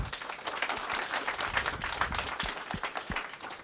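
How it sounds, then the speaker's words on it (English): An audience applauds to welcome an alumni panel, a dense, even patter of clapping from a fairly small crowd that holds steady throughout the short stretch. "let's give a nice round of applause and welcome them"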